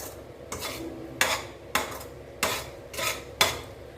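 A spoon stirs thick ragi kichadi in a pot, scraping the bottom in rhythmic strokes about every half second. The scraping is near and distinct against a quiet background with no speech.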